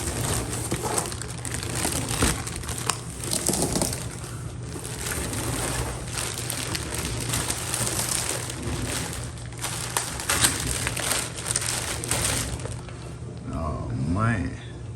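Crinkling and crumpling packaging as a box of Monte Carlo floor mats is opened, with rustling plastic and cardboard handling continuing throughout at close range, and a person talking occasionally.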